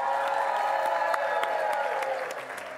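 An audience applauds and cheers for Mr. Victor at a Sunday church family-day service, a dense, steady wash of clapping with scattered sharp claps that holds for a few seconds before easing slightly.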